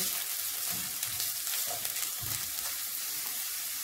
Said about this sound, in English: I add in a little vegetable oil. I add in onions, stir in.